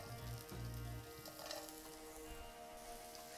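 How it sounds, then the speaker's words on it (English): Vegetables and a little oil sizzle steadily in a hot pan, a loud, close, continuous frying hiss with a brief stir near the start. "in the same pan, I'm going to add just a touch more of oil. Then I'm going to start adding the vegetables"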